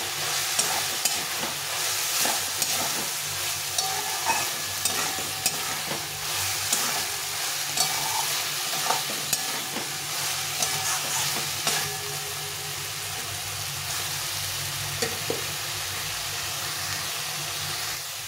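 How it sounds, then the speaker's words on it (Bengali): Soybean chunks are stirred and fried in a thick spice paste, with a constant hot sizzle broken by repeated scraping and clacking strokes of the spoon in an even rhythm, heard alone without speech. "দিয়ে একটু ভালো করে আবার কষিয়ে নেব।"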